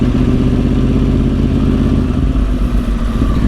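A 2010 Yamaha R1 1000cc superbike is ridden on the road, its engine droning steadily and loudly throughout, with wind rush and a constant low rumble and no pauses.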